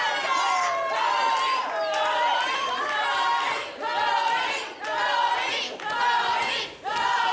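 A pro wrestling crowd cheers and chants loudly in repeated rising swells, sustained and close, with no pauses between the waves of noise.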